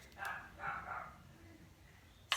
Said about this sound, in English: And my dogs are barking, and that's all right